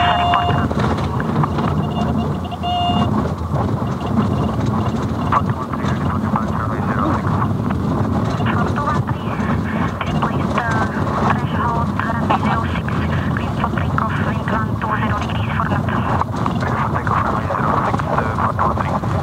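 Inside the cockpit of a light aircraft landing on runway 05 right at Prague Letnany, a loud, steady engine drone and wind roar run throughout, with voices at times.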